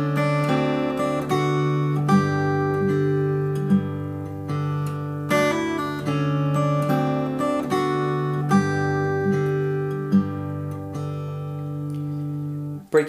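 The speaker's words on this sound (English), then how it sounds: "starting the phrase off with this hammer on and pull off on the first string" A slack key acoustic guitar plays a turnaround phrase with an alternating bass line and hammer-on and pull-off notes on the first string, ringing clearly and evenly with no talking.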